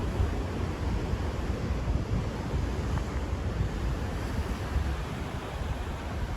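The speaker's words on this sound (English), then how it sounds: "I'm quite taken by these nice big waves that we've seen for a change" Big surf rolls onto a beach at Ramsgate on the KwaZulu-Natal coast, a continuous heavy roar of breaking waves with strong wind buffeting the microphone and no talking.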